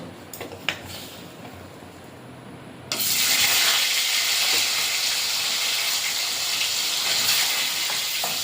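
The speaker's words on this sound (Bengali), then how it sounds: "মাছগুলো ভেজে নেব" Tul fish pieces going into hot oil in a kadai: a few quiet clicks, then a sudden loud burst of sizzling that settles into a steady, bright spitting hiss.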